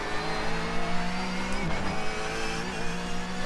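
Porsche 911 GT3 Cup race car engine in iRacing, with a steady high-pitched howl under load and a brief dip around a gear change before resuming its sustained whine.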